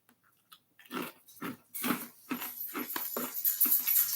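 Crunchy dried broad bean snack being chewed close to the mic, a run of loud, irregular crunching bites that grows denser over a few seconds, with no talking.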